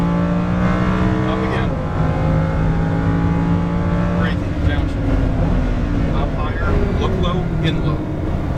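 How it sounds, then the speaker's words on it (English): Lamborghini Huracan LP610-4 pulling hard out of a track turn, its engine note rising continuously and close, with instructor speech layered over the sustained roar. "Now you can accelerate out on the exit of the turn."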